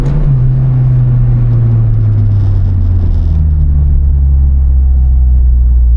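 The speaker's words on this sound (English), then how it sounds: "You just need to hear that VTEC come on, don't you?" A Honda Civic Type R EP3 engine with VTEC drones loudly and steadily nearby, its pitch easing slightly downward as it holds a sustained roar without clear rev spikes.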